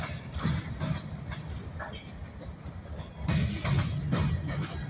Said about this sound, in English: GATX, these are empty tank cars. So they're going down to get filled up, I guess.